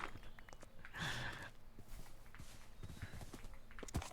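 Horse hooves clop in Minecraft, soft scattered steps at close range interspersed with a horse's snorts and breathy sighs, all fairly quiet.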